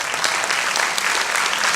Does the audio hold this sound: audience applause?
yes